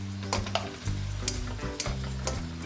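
Shimeji mushrooms sauté in a pan with light soy sauce, giving a steady close sizzle with soft stirring scrapes and taps over it, and no talk.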